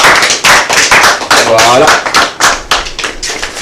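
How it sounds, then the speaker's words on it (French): Audience applause in a French TV studio, sharp claps in irregular bursts close by, with a voice speaking briefly over them. "on applaudit jusqu'à ce qu'il arrive."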